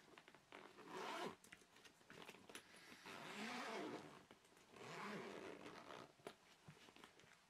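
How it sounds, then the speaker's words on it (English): A Q-Tech bag is unzipped in two long, rasping pulls, close and fairly quiet, with short scratchy zipper sounds between and after them. "Let's unzip it and have a look in there."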